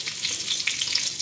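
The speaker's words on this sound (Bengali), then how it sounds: "এদিকে একটু জিরা ফোড়ন দিলাম" Cumin seeds and a bay leaf sizzle steadily in hot oil, a dense crackling hiss with small pops, close and alone.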